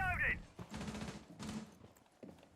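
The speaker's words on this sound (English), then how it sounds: "Sounds like he shot." A burst of gunfire in Rainbow Six Siege crackles in quick succession, followed by a second rattling volley, fairly quiet amid brief voice-like sounds.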